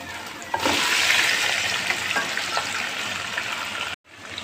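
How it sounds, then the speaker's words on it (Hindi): Chicken and spices hitting hot oil with browned garlic in a pan, a sudden loud sizzle that holds steady with stirring clicks, then cuts off abruptly near the end. "अब हम अपने मसाले को अच्छी तरह से, चिकन को खूब अच्छी तरह से भून लेंगे।"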